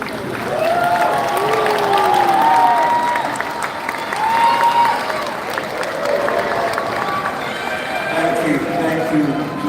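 A high school graduation audience claps at length while cheers, whoops and voices rise over the applause in a large, echoing space.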